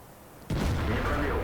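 A Jagdtiger tank's main gun fires in World of Tanks: one sudden heavy boom whose low rumble lingers to the end.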